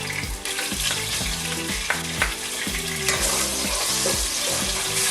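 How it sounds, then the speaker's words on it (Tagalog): Sweet onion sautés in hot oil with a bright, constant sizzle, punctuated by regular scraping strokes of a spatula against the pan. "Once mainit ng oil, ilagay natin yung sweet onion natin. Saute natin until fragrant."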